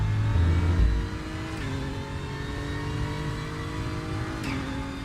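A Porsche Cup car in the RaceRoom racing game drives over AstroTurf, giving a brief low curb-style rumble under the steady engine drone, which then holds at an even, moderate pitch.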